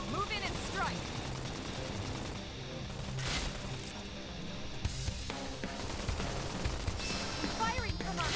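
Sustained automatic gunfire in the sci-fi game Xenoblade Chronicles X, loud rattling bursts layered with crashes and battle effects, with voices talking over the action.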